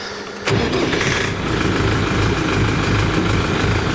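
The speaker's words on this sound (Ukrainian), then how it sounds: "Ось заводимо" A DMTZ 544X mini tractor engine cranks and catches abruptly, then settles into a loud, steady diesel idle with a low rhythmic chug close by.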